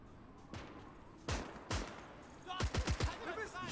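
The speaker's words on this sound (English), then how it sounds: "that machine gun's making a difference" Machine gun fire crackles in the video game Gates of Hell: Ostfront, with scattered single shots followed by a quick burst of rapid rounds, fairly close, amid battle noise and voices.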